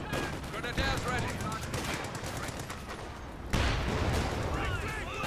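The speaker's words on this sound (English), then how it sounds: "Rifle grenade does connect the mortar team, decrewing it." Rifle grenade explosion striking a mortar team in the World War II strategy game Company of Heroes 2, a sudden loud burst among continuous battle noise of gunfire and explosions, with a commentator talking over it.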